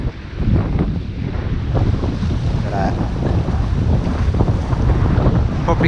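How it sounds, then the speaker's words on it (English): Strong gusting wind buffets the microphone on a murky shoreline while waves surge and crash continuously, loud and close throughout. "the wind whistling through, but the old waves are crashing up as well"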